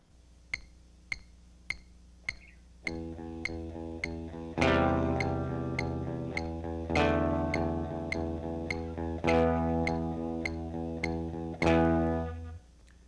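Rock electric guitar chords are picked to a metronome ticking at 100 beats per minute; a few clicks sound alone first, then distorted strummed chords ring over the steady ticks and decay at the end.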